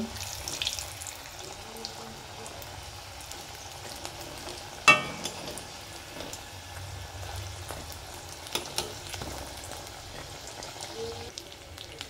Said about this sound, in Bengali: দিয়ে উল্টে পাল্টে খুব সুন্দর করে লাল লাল করে ভেজে নেব